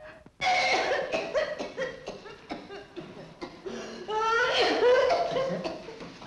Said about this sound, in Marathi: हा खोकला झाला तुम्हाला?